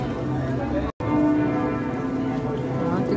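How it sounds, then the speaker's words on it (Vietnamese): Church bells ring at the Nantes Christmas market, a steady ringing tone heard amid crowd noise with a person talking over it. "Đó, tiếng chuông nhà thờ."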